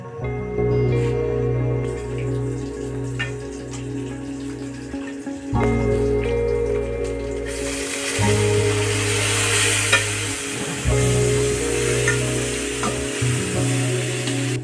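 Food frying in a pan late at night gives a steady, close sizzle that swells louder partway through, over a low droning hum, with no voices.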